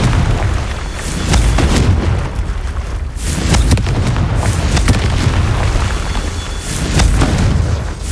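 Confringo fire spell blasts in Hogwarts Legacy, a string of loud booming explosions with rumbling low-end, several sharp bursts spaced through a continuous roar of game effects.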